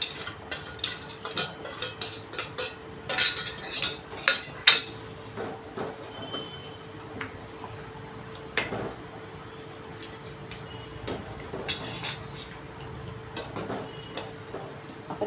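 Roasted dry fruits tipped into a pot of rice kheer, followed by a spoon clinking and scraping against the pot in scattered taps, moderately close and fairly quiet, with no voices.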